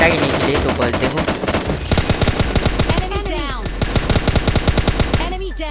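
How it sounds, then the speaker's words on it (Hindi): Gunfire in the mobile battle royale game PUBG Mobile: loud, rapid automatic bursts crackle almost continuously, with rhythmic shots in long strings and a few brief pauses. "तभी मुझे सामने की तरफ से कुछ फायरिंग की साउंड आ रही थी"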